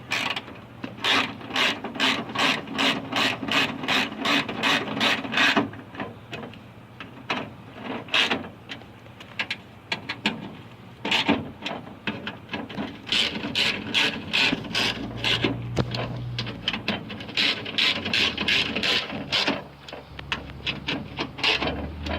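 Ratchet clicking as bolts are tightened back down on a window regulator in a 1998 Honda Civic door, with rapid runs of close, sharp clicks separated by short pauses and a few louder clunks.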